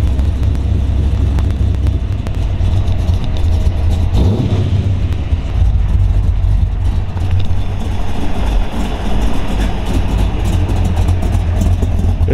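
A 1969 Chevrolet Camaro ZL1 427 V8, still cold with the choke off, idles with a loping cam: a loud, steady, close-up low rumble with a rhythmic uneven pulse throughout.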